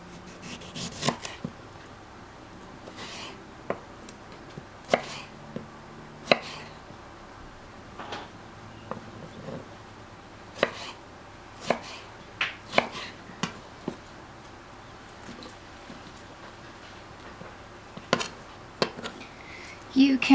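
A knife chops roast salad vegetables such as beetroot on a board, sharp irregular taps scattered across the stretch, some in quick clusters, others spaced apart, close and fairly faint over a quiet room.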